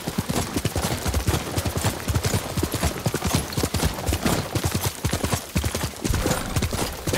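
Rapid, steady hoofbeats of a galloping horse in the video game Ghost of Tsushima pound close and loud, with a dense clattering rhythm throughout and faint bursts of noise behind.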